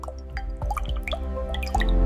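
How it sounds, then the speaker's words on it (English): Liquid epoxy resin drips and pours over a 3D floor mural, a close run of glassy plops and trickles that builds into a heavier, continuous pour near the end. "The liquid glass pours over the 3D mural, instantly magnifying the depth and colors."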